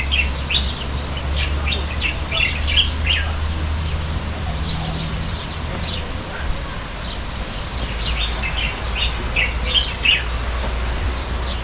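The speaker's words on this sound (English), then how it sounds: "You guys hear the birds chirping?" Birds chirp at Crocoparc in Agadir, Morocco, many small high chirps and tweets overlapping in busy bursts against a low, steady hum of background noise throughout.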